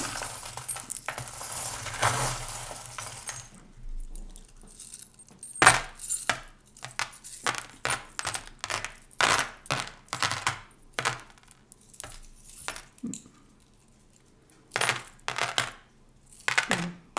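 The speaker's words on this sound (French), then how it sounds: "je vais garder ces 9 cartes-là pour poser mes petites breloques" Small charms are set down one by one onto cards on a table, making a series of faint, sharp clicks and light taps at irregular intervals, with quiet gaps between clusters.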